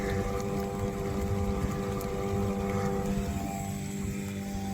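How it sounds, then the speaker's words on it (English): A Mercury outboard motor pushes a sailboat along at a few knots, giving a steady, continuous engine drone with a low throbbing hum that holds at the same loudness throughout, with no talking. "Mercury's doing good back there."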